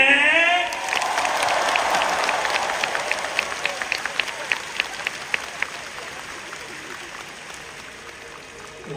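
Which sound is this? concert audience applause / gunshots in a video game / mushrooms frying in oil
concert audience applause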